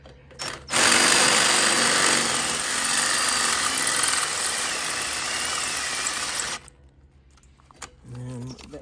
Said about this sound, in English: we're gonna go ahead and try to ream out these two